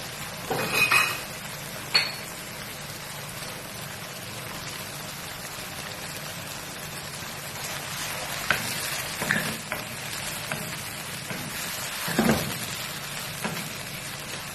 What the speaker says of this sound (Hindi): चिकन को हम अच्छी तरह भून लेंगे